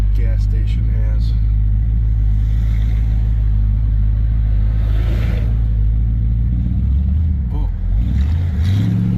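The V8 engine of a 1971 Dodge Polara with 31,000 original miles, back on the road after more than 20 years, rumbles loudly and steadily from inside the car, pitch dipping and climbing as it shifts and accelerates; a voice briefly exclaims.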